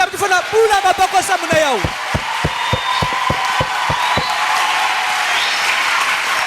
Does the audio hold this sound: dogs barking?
no